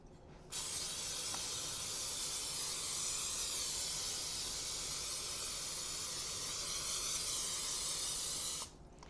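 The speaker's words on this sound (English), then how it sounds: "I'm gonna go ahead and spray the pan in case I forget." A single long, steady hiss of aerosol cooking spray onto a bundt cake pan, close by, lasting about eight seconds before cutting off.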